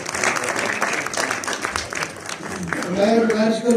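Audience applause at an award ceremony marking a death anniversary, a dense crowd clapping that fades as a voice begins speaking toward the end.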